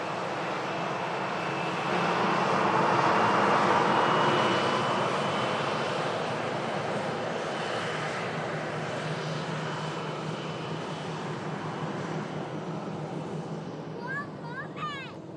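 Weathered KLM airliner in the old livery passes with a steady broad jet rumble that peaks early and slowly fades, with people chatting over it and a few bird chirps near the end.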